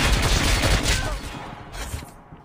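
Heavy gunfire from a Goliath in the mobile shooter Call of Duty Mobile, a loud, dense burst of rapid shots that fades somewhat toward the end, with no talking.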